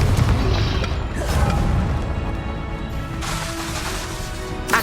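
Dense, booming explosions and crashes from spell combat in the video game Hogwarts Legacy, a continuous loud barrage of blasts layered over rumbling game sound.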